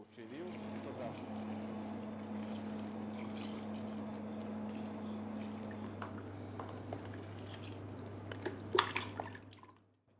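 Cold water with yeast pours into a bowl of flour for pizza dough, a steady trickling stream lasting several seconds over a low background hum, ending in a few drips.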